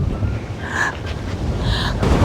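Strong wind gusts buffet the microphone atop Sigiriya Rock Fortress in Sri Lanka, a steady low roar and rumble filling the whole moment with faint airy whooshes drifting above it.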